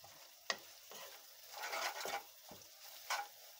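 Vegetables and spices, including Kashmiri chilli powder, turmeric and salt, are stirred in a frying pan for masala Maggi: soft sizzling with several scraping stirs and light clinks of the spoon at irregular intervals, close and fairly quiet.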